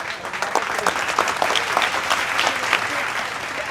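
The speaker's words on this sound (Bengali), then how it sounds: "এই চাচার জন্য সবাইকে হাততালি দেন" A TV game show studio audience claps for an elderly contestant, a close, lively burst of applause lasting several seconds, with some voices mixed in.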